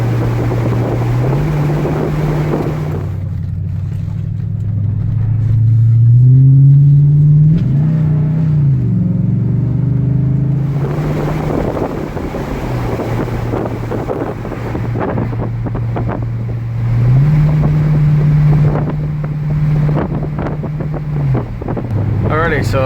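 A Ford F250 gas truck's 6.2 V8 exhaust fitted with a Flo Pro Twister resonator drones low and steady while driving, with pitch rising and falling as the engine revs change, under heavy wind noise.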